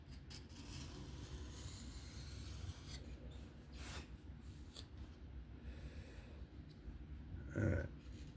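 A folding knife with an S35VN blade and contoured G10 handle is sharpened freehand in forward passes, giving a faint, soft rasping and rubbing of steel on stone. The strokes are quiet and indistinct.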